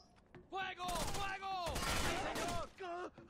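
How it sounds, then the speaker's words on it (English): Bursts of gunfire in the Rainbow Six Vegas shooter game crackle through a short firefight, several rapid shots layered with a voice talking over them. "Why are we being shot at?"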